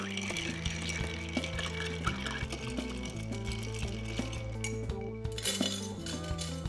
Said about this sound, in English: Ice up that mixing glass. Grab your bar spoon, stirring for 20 seconds.